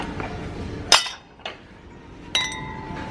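Heavy glass plates clinking while handled: three sharp ringing clinks spaced a second or so apart, close and fairly loud over a quiet room, with no talking.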